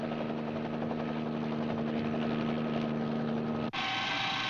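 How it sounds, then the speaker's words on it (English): A company helicopter flies overhead with a steady, droning rotor and engine roar that holds evenly, then cuts abruptly to a thinner, higher engine whine near the end. "There's a helicopter."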